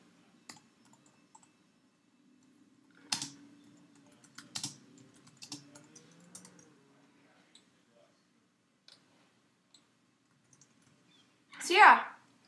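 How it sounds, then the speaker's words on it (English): Quick bursts of clicking on a computer keyboard, sparse and fairly faint, with clusters of keystrokes separated by pauses and a short louder noise near the end. "I'm just gonna type quickly"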